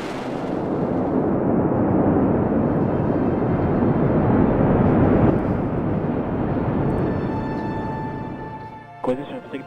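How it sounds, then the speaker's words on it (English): SpaceX Falcon 9 rocket carrying a Cargo Dragon lifting off, a loud sustained roaring rumble with crackle that holds steady for most of the stretch, then eases off before a brief clatter at the close. "Liftoff of the Falcon 9 and Cargo Dragon"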